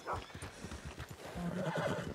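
A horse in the video game Red Dead Redemption 2 whinnies loudly in a drawn-out neigh, with hooves clopping rhythmically underneath, close and clear.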